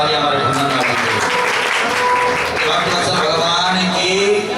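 Loud applause from a devotional gathering at a Bhagwat Katha in a temple, greeting a guest, with overlapping voices and talk mixed into the steady clapping throughout.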